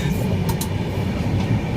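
Inside a moving passenger train, a steady, loud low rumble of wheels and carriage fills the whole stretch, with a couple of faint higher rattles and no talking.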